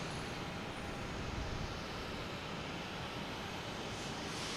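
A JetBlue Airbus A320 coming in to land at Boston Logan, a steady broadband jet roar that stays at a fairly even level throughout, with no voices over it.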